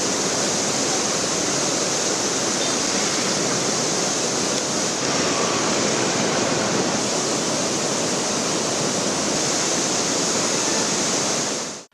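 About 170,000 cubic feet of floodwater released from Mettur Dam on the Cauvery roars in a loud, unbroken torrent, a dense constant rush that holds for the whole stretch before cutting off.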